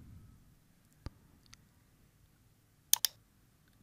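A computer mouse on Windows 11 gives a few sharp, separate clicks, close and crisp, including a quick double click near the end, against an otherwise quiet background.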